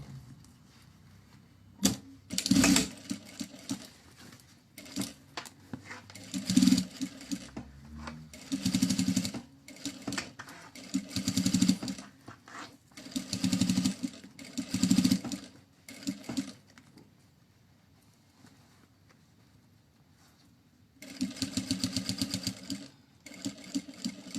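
A sewing machine topstitching a bag runs in several rhythmic bursts of rapid mechanical chatter, stopping and starting with quiet pauses between runs, close and clear.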